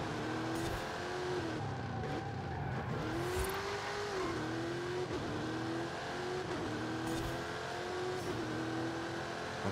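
A Ford Crown Victoria police car driving hard through a run of bends, engine droning steadily and rising and falling in pitch as it revs between turns, heard from inside, continuous and without talk.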